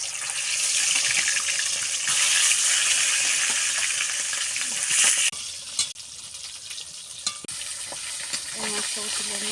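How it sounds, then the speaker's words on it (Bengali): Fish frying in oil in a pan, giving a loud, continuous hissing sizzle with occasional pops and utensil taps, easing somewhat partway through. "মাছটা ভাজা হয়ে যায়"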